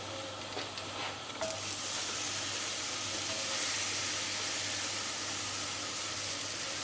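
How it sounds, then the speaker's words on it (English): Vegetables tossed in oil sizzle on a hot grill for a couscous salad, a steady broad hiss that holds evenly throughout at moderate loudness with no talking. "you can hear it starting to sizzle."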